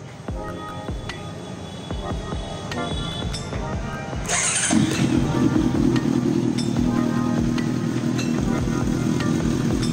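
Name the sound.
Honda CBR 650F motorcycle engine starting and idling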